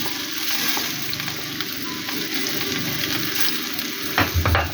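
Cut potatoes stirred into fried onions in a pan for aloo anday: a constant near sizzle with a few louder scraping stirs toward the end.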